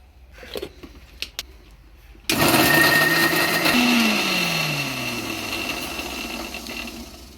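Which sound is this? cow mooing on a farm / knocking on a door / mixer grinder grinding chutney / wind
mixer grinder grinding chutney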